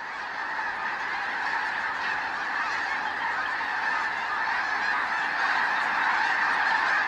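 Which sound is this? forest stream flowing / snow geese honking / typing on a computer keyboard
snow geese honking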